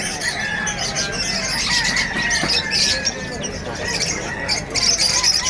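Caged birds and chickens at an outdoor pet and animal market, chirps, squawks and squeals overlapping continuously over a busy crowd murmur.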